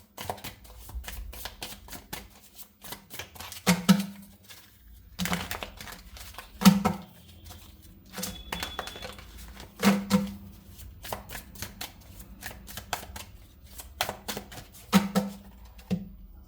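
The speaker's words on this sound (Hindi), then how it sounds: "ये कार्ड नहीं आना चाहता, no, need to do more shuffling." A deck of tarot cards being shuffled by hand, brisk riffling and tapping bursts repeated in uneven clusters across the whole stretch, close and moderately loud, with no talk.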